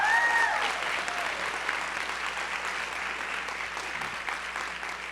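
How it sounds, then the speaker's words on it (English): Steady applause from a seated audience at a school board of education meeting, a dense even patter of many hands filling the room, holding level before easing slightly toward the end. "So big round of applause, Yip."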